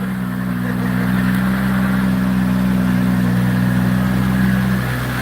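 A 2,000-horsepower car engine runs at a steady, loud, low idle with a deep droning hum, close and unbroken for several seconds, with no voices.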